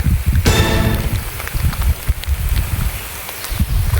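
Steady monsoon rain on a hill climb patters loudly all around, with scattered drops hitting surfaces up close.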